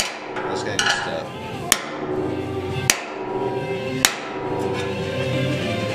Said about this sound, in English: time to get a bigger hammer